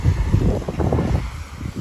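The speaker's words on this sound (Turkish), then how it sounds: "ama çok rüzgar var şu anda ya" Wind roars and buffets the microphone outdoors, a steady low rushing noise with gusty swells throughout.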